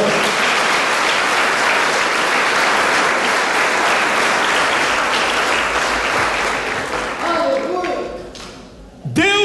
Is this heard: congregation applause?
yes